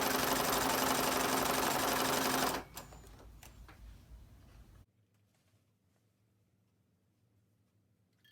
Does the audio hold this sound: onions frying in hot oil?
no